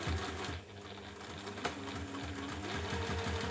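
A sewing machine runs continuously while top stitching a ribbon and felt purse, giving a steady close rapid whir with a brief dip near the start, no talking.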